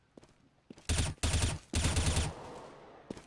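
AK rifle fire in CS:GO on the Inferno map, two loud bursts of rapid shots close together, then a brief trailing shot, with no talk.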